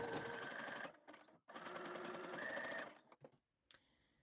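A home sewing machine stitches elastic onto stretchy activewear fabric in two steady, fast whirring bursts, with a short pause between them and a few softer handling clicks afterward.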